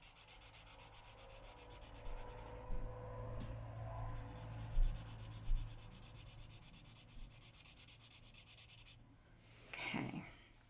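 Chisel-tip marker colouring roughly around the edges of a fairytale colouring page, a soft continuous scratchy rubbing on paper with a few louder strokes, close and steady under a low background hum.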